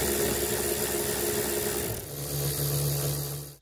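Steady grinding, rasping tool noise from work on removing 10 millimeter screws from a Town & Country / Grand Caravan van part, loud and continuous for several seconds with a lower droning tone in the second half, no talk.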